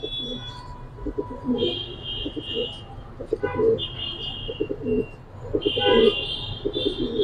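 A male Giribaz pigeon coos in a loft, several low throaty coos repeating between bursts of men's conversation, with bright chirping and a buzzing tone in the background.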